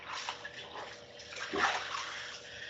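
Water is sloshed and wiped across freshly grouted white tiles during a first wash, soft watery swishing with a brief splash, close and fairly quiet.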